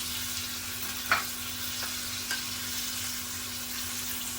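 Black creek fish frying in oil in a pan over medium heat, a steady loud sizzle throughout with a couple of faint clicks, close and continuous, no talk.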